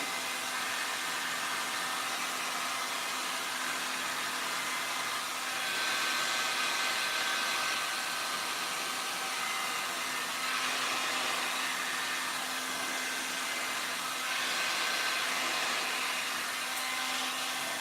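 Heat gun blowing steadily over resin art, a continuous close airy roar with a constant motor hum that barely changes for the whole stretch, no voices over it.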